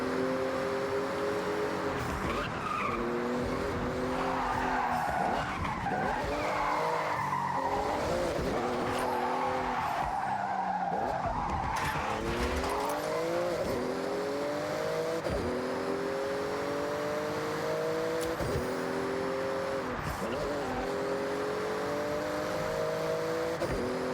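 A Porsche in a racing video game screeches through a speed zone: repeated tire squeals and skids over a revving engine that rises and falls in pitch, loud and continuous with no talk.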